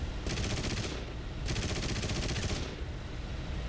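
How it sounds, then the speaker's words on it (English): Rapid machine-gun fire aimed at a bomber plane in War Thunder, two sustained bursts of fast crackling shots over a steady engine drone, loud and close, with no talking. "They're trying to shoot at me now, as you can see."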